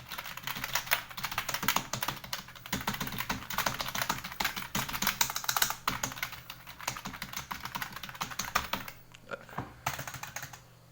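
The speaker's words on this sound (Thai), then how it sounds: "เราจะมาเทสเสียงกับคีย์บอร์ดตัวเก่าที่ผมใช้กันนะฮะ" Fast, continuous clattering of an old computer keyboard's keys, close up, typed in quick bursts for about nine seconds before slowing to a few final taps.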